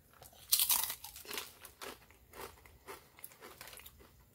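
Doritos chips being crunched while eating alongside a Jersey Mike's giant sandwich, with a series of close, sharp crunchy bites and chewing spread over about four seconds, no talking.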